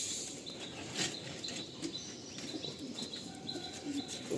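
Kaldom pigeons in a loft cooing softly, with chirps and light wing flutters over a steady background hum, no talking.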